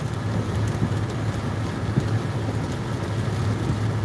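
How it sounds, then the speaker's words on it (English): Heavy rain pours down in a steady, dense roar, constant throughout with a low rumble underneath and no voices. "The amount of rain and how much rain coming."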